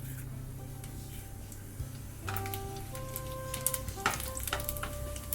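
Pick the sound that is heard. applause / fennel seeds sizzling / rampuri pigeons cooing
fennel seeds sizzling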